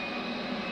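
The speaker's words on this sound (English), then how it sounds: "You can hear jet engine powering up." A small jet engine in an aircraft auxiliary power unit powering up, heard as a steady, close rushing roar with a thin, sustained high whine and no voices.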